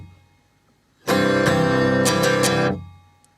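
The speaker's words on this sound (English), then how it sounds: "for the strumming, we mostly play number 1" Acoustic guitar strumming a song's pattern, a short burst of steady down-and-up strokes lasting under two seconds, clear and close, with no talk.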